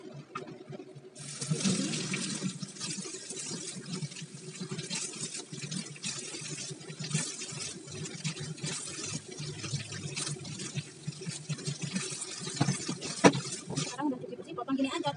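Running tap water splashes steadily over bitter gourd being rinsed in a sink for juice, a continuous close wash that carries on without break for the whole stretch.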